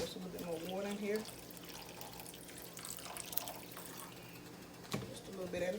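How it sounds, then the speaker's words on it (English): Water trickles and splashes softly into a pot, faint and close, with brief voiced sounds at the start and near the end. "And just a little bit more water in here."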